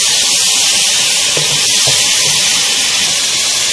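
Garlic ginger paste frying in hot oil for chana dal kofta, a steady close broadband sizzle and hiss that holds evenly throughout, with a few faint soft clicks from stirring.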